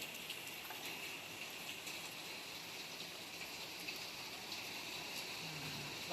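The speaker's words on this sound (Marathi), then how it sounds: "पाऊस काय कंटिन्यू चालू आहे." Steady continuous rain falls during a monsoon spell in a village, an even hiss of drops on surfaces across the whole stretch with no talk.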